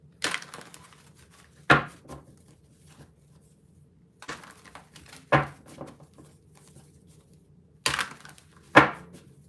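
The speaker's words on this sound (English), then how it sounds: "Let me give these a good shuffle." A deck of cards for a sign reading is shuffled by hand, with short riffling bursts repeating every couple of seconds, close and fairly soft, with quiet gaps between.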